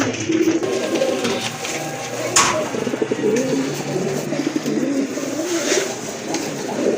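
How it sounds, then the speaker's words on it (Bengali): A pair of red check pigeons coo in a steady, continuous low murmur close by, with faint bird calls and background noise around them. "দেখেন কত সুন্দর এক জোড়া কবুতর"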